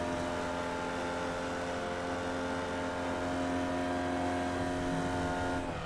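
In the iRacing sim game, a Formula Vee race car's engine buzzes loud and steady at high revs around Okayama Circuit, holding a strong harmonic note with a slight drop at the very end.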